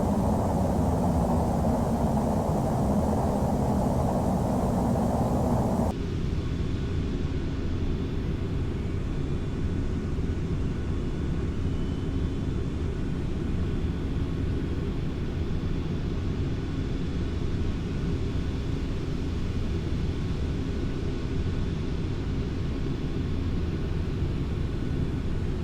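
Boeing 747 engines droning in flight in the flight simulator FSX, with one of the four engines lost. A steady broadband roar runs throughout, duller and quieter after the first few seconds.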